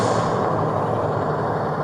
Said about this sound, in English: That truck's going to be really loud.